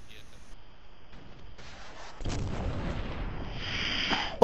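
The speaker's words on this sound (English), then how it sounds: "That man got hit directly with a rocket." An RPG rocket strikes a player in a video game: a sudden heavy blast bursts in midway and rolls on as sustained rumbling noise, with voices over the game sound.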